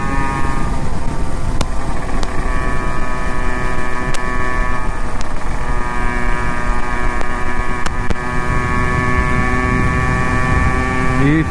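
A Yamaha RX135 two-stroke motorcycle drones loudly and continuously on the ride, its engine tone holding steady with slight pitch shifts and occasional ticks, heard up close with no talking.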